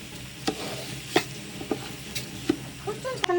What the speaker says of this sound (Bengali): এখন এটাকে ভালো করে একটু কষানো হবে।